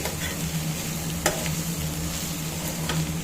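Green beans, green peas and grated coconut frying in a pan give a steady, close sizzle with a few sharp stirring clicks, and no voices are heard.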